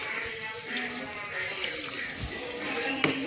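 Water is poured onto four o'clock plants in a home garden, giving a continuous splashing and trickling that runs throughout, with a few soft clunks and light background sounds.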